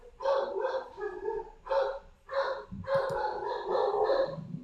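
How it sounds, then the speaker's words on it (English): A dog barks repeatedly in the background, several sharp, slightly muffled barks in irregular bursts at moderate distance with no one talking over them. "Dog's going nuts in the background."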